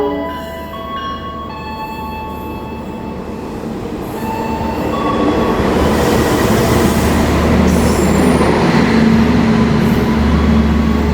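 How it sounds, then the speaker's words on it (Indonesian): The Ranggajati passenger train rolls into Pasuruan station in Indonesia, its rumble growing louder and steadier, with faint squeals and clanks of wheels on the rails. "ini dia kereta api Ranggajati udah masuk stasiun Pasuruan"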